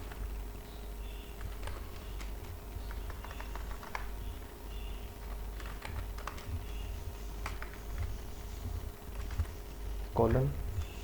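Soft, rapid typing on a computer keyboard, irregular clusters of clicks running through the stretch under a low steady hum, with a voice speaking over it.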